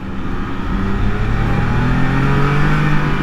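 A 2022 Can-Am Spyder RT three-wheeler accelerates under steady, loud engine drone, with pitch climbing smoothly as it gathers speed, heard close from the rider's seat amid rushing wind.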